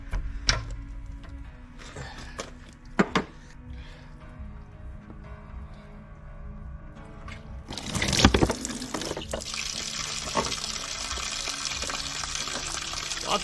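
Water draining from the engine oil drain of a hurricane-damaged Grady White 282 Hurricane boat; a sudden loud splashing gush starts partway through and keeps pouring steadily after quieter dripping and handling noises.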